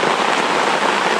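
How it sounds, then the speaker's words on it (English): Rain falls steadily at a lakeside campsite in the Adirondacks, a dense even hiss of drops on surfaces, loud and close, with no voices. "I'll just sit here and listen to the raindrops."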